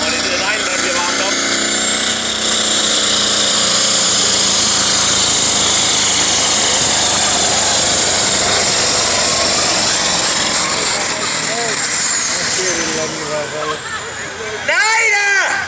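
The engine of a blue pulling tractor called Big Blue warms up at a Danish tractor pulling event, a loud, sustained high-pitched roar with a whining tone, ending in a brief revving burst, as people chatter in the background.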